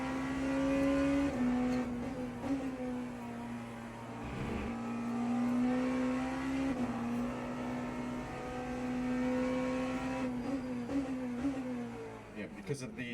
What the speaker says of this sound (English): Find the throttle and zoom on by.